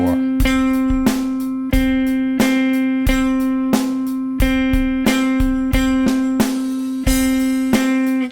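Electric guitar picking a single repeated note in an accented eighth-note rhythm, with sharp evenly spaced attacks that ring close and clear and no talking over them.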